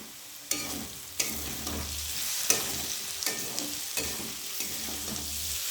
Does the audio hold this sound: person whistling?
no